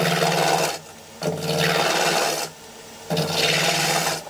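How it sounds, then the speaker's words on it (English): A roughing gouge cuts into spinning wood on a lathe while a sword part is turned, a loud close rasping roar in long sustained passes broken by brief pauses. "Just use the rough it out gouge."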